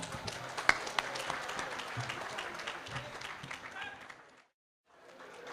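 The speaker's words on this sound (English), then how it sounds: "Please give yourself a round of applause." Crowd applause at a union bull roast gathering, a steady patter of clapping from a moderately distant audience that dies out abruptly near the end before faint room noise returns.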